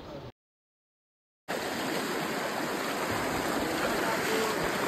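A stream rushes steadily as trekkers cross it on the way to Tarabu waterfalls, a broad, continuous wash of flowing water close by, following a brief cutout near the start.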